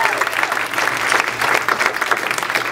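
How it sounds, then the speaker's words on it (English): A comedy club audience applauds the wait staff with dense, continuous clapping that carries steadily and loudly through the room. "how about a very enthusiastic round of applause for your wait staff who are coming around giving you drinks?"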